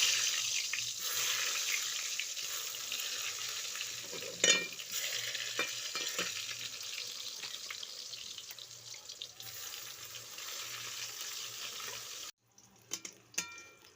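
Food fries in oil on a clay stove, a steady close sizzle with occasional stirring scrapes and clinks that cuts off abruptly near the end, followed by a few brief knocks.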